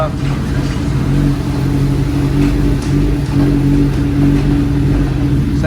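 A 2021 Kawasaki ZX10R sportbike engine drones steadily and loudly throughout, with subtle rises and dips in pitch as revs blip through quickshifted gear changes, close to the microphone with wind noise and a rider's voice.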